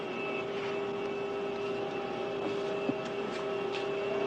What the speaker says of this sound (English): Never been in a plane like this before.